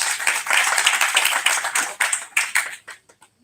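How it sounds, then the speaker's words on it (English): Audience applause at a Siyum HaShas gathering held by a kollel, a dense burst of hand clapping that is loud and close, thinning out into a few scattered claps before fading to quiet. "you all deserve a big round of applause"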